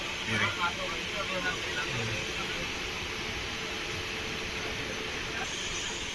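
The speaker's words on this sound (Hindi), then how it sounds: "दोस्तों सामने से ट्रेन आने में कैसी दिखती है लोकल ट्रेन। ये देखो ये आ रही है इधर से।" A local train approaching in India rumbles steadily at a distance, a broad continuous roar with faint voices early on.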